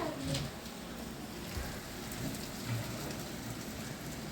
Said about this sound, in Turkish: Bugün oh, maşallah döktürüyor İstanbul'da yağmur